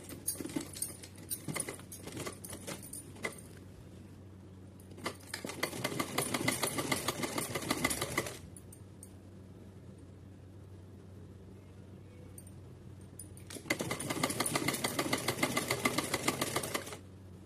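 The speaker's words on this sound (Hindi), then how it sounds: "सीधा एक राउंड में रखते हुए सीधी सिलाई लगा लेनी है मुझे" A sewing machine stitches lace onto the hem of a small doll's dress, running in two sustained rapid rattling bursts, with clattering handling and fabric movement before and between them.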